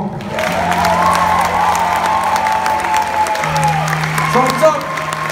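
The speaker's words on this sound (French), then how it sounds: "Vos applaudissements." An audience applauds loudly at a tribute concert with a choir at the Casino Terrazur in Cagnes-sur-Mer, steady clapping and some cheering over sustained musical tones from the stage.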